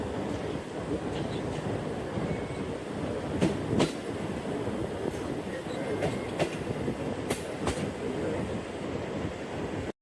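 The Jaffer Express pulls out of Sahiwal station with a steady, loud rumble of wheels and carriages and rhythmic clatter over the rails, and a few sharper metallic squeals cut through.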